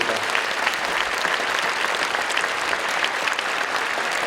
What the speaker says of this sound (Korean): 박수했으면 좋겠습니다.